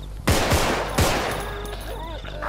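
Gunfire in the zombie video game Contagion: two or three loud, sharp shots in quick succession, then another, fading into a ringing tail.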